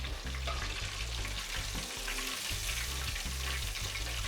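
Porgy fish frying in hot grease gives a continuous dense sizzle with crackling spatter, steady and close throughout.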